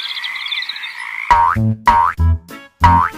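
A frog croaks several times in quick, loud, close bursts, following a high trilling chorus at the start.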